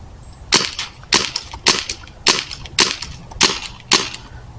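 Airsoft gun fired at a target at close range, seven sharp snapping shots spaced about half a second apart in a steady rhythm, loud and near with no talking.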